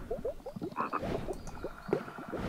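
In the adventure game The Whispered World, a toad croaks in quick repeated bursts, each a short rising chirp, in a close, busy sequence with a few higher squeaks mixed in.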